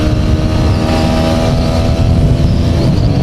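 A loud Yamaha MT-15 motorcycle engine drones steadily up close in Thailand, its rough rumble holding under acceleration through third and fourth gear to about 108 km/h, with wind noise throughout.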